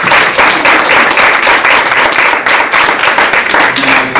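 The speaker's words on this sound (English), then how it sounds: "And a round of applause for our" An audience at a school board meeting applauds: dense, loud, continuous clapping from many hands, close and sustained without pause.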